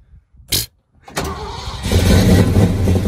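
A 1979 Ford truck engine starts: a brief starter burst, a pause, then cranking that catches into a loud, rumbling run that grows heavier and settles into a rough idle close by.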